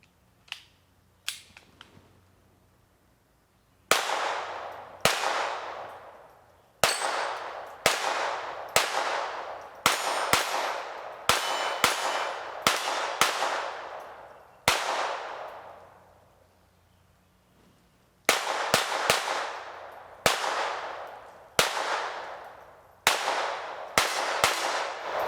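Sig Sauer P322 pistol fired through a full 20-round magazine at steel targets, giving sharp shots with ringing metallic clangs, first a few spaced hits and then rapid bursts of steady strings with brief pauses, loud and close, with no talk.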